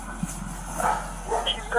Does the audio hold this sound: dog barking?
yes